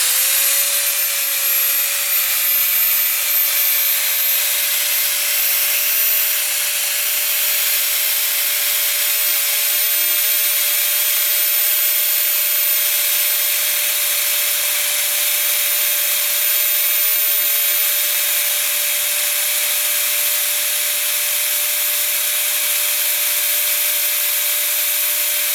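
A Bosch GWS 750 angle grinder runs steadily at idle with no load, a loud continuous whine and a sustained tonal hum that holds without change from start to finish.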